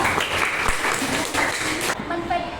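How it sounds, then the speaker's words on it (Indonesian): Applause in a classroom for a student group after a presentation, a dense burst of clapping that stops abruptly after about two seconds and leaves a quieter room with faint tonal sound. "beri tepuk tangan buat kelompok penyangga"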